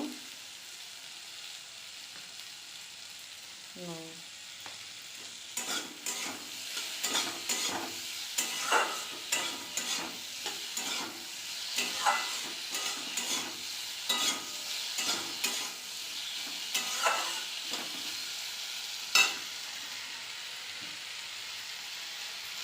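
Food sizzles in a hot pan while a utensil stirs and scrapes in repeated bursts, fairly close and with no talking.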